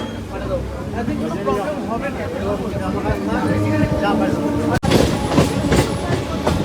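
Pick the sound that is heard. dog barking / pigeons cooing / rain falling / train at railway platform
train at railway platform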